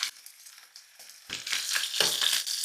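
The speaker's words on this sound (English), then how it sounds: "And now let's fry our meat." Beef frying in a pan, starting quiet then breaking into loud close sizzling as the meat hits the hot surface, with crackling bursts continuing to the end.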